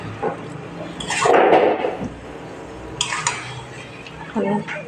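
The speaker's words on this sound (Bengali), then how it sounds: "এবার মাংসটা কষাতে থাকবো।" Chicken being stir-fried in a pan in a village kitchen, with bursts of metal spatula scraping and clattering against the pan, loud and near, and a faint voice in between.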